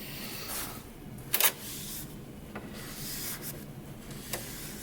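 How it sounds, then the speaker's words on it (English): The roller of an unplugged DeWalt thickness planer is wiped clean by hand, giving faint, close rubbing and scrubbing strokes with a couple of sharp little knocks. "I'm going to keep cleaning the roller."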